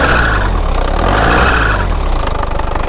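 A big SUV's engine revved hard in a workshop, a loud, steady, close roar that holds throughout with slight rises and falls in pitch.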